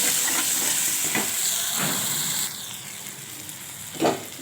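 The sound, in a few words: ginger and spices frying in pan for fish curry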